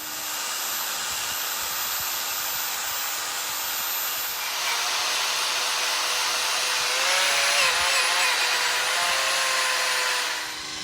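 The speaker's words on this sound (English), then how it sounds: "take the band file sander, break the corner on the side that's going to be the bottom of the eye. Take the wire wheel to it" Forged steel flatter worked on a band file sander, then a wire wheel and a Scotch-Brite wheel, giving a steady loud motor whir with abrasive hiss that shifts tone partway through, continuous for about ten seconds.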